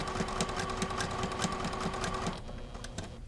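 A sewing machine stitches around a quilt label, its needle tapping in a fast steady rhythm close by, then stopping abruptly near the end.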